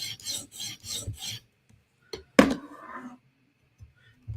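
A Spyderco knife blade is sharpened on a stone late at night: four quick rasping strokes in a steady rhythm, close and crisp, followed by a few scattered scrapes and a sharper rasp with a clunk amid quiet pauses.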